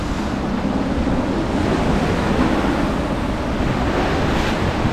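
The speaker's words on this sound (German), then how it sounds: "Schaut euch mal diese schönen Wellen an und das schöne Rauschen vom Wasser." Sea waves break and wash against the cliffs along the Monaco coast, a loud, continuous roar of surf mixed with wind buffeting the microphone, with no voices over it.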